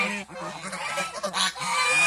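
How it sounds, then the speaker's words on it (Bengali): Rajhans ducks waiting to nest for eggs at a farm shed give repeated honking, quacking calls that sound close and fairly loud, with several overlapping birds. "এই যে হাঁসগুলো ডিমের জন্য বসে আছে ঘরে যাবে"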